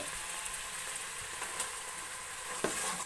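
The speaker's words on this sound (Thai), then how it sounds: "เอาเนื้อลงไปคั่วกับพริกแกงกับกะทิเมื่อกี้ครับ" Beef stir-fried in a pot with curry paste and coconut milk for a Thai beef dish sizzles steadily and loudly, with a sharper stirring scrape near the end.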